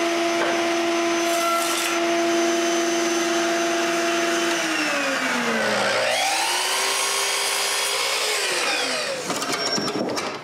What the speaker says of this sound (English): now I can cut a rabbet for the back and a chamfer inside the box